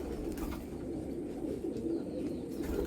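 Patta pigeons, Golden Ice birds, coo together in a steady, overlapping low murmur that runs unbroken and moderately close, with no voices over it.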